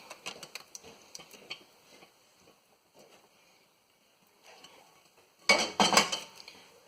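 A spatula scrapes thick pumpkin batter for grain-free, dairy-free, egg-free breakfast bars into a pan, with a run of close clinking scrapes, a quiet pause, then a louder burst of scraping near the end.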